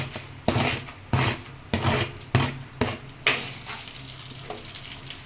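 Black urad dal and chana dal frying in a pan for chutney, heard as repeated bursts of loud sizzling and stirring scrapes at a steady rhythm, close by, with no talk.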